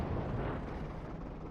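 A tank cannon fires in the video game World of Tanks, a single loud booming blast that rumbles and fades over a second or so.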